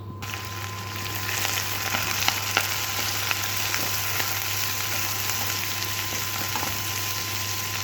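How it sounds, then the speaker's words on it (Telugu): Onions fry in oil in a kadai, giving a steady, even sizzle with faint crackles throughout, accompanied by a constant low hum in the background. "ఇప్పుడు కడాయి పెట్టుకొని అందులో కొంచెం ఆయిల్ వేసుకున్నాను ఇప్పుడు ఇందులో ఫస్ట్ వేసుకొని కొంచెం ఫ్రై అయిన తర్వాత ఇందులో ఇప్పుడు ఉల్లిపాయలు వేసుకోవాలి"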